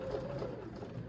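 A sewing machine back stitches a seam in a faux leather skirt, giving a steady, close mechanical hum that runs unbroken.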